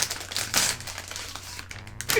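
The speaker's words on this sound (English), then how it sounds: "Apologies for the noise. It's a bag after all." Plastic bag crinkling and rustling near the microphone while a GeForce GTX 1080 Ti graphics card is unboxed, a continuous crackly texture with a few sharper bursts.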